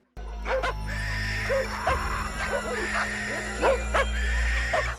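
Dog from The Tommyknockers film giving a string of barks and yips, close and fairly loud over a low steady hum, with no talk.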